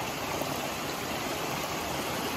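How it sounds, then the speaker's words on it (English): Creek water rushing steadily in a mountain wilderness, a continuous broadband wash of flowing water with no breaks, close and fairly loud, no voices present. "we stopped beside this creek here"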